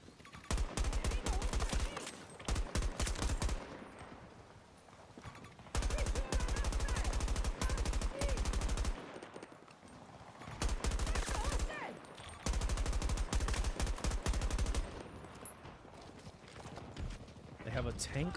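Battlefield 2042 video game combat: repeated loud bursts of rapid automatic gunfire, several seconds each, separated by quieter gaps, with voices talking over the action.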